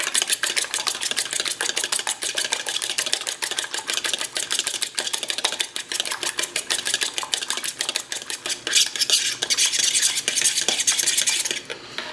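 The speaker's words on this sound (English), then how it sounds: "And we're just going to whisk them a little bit." Eggs being whisked in a bowl for a fried zucchini batter, a fast steady run of close, bright clicking strokes against the bowl, continuous for about twelve seconds with no talking.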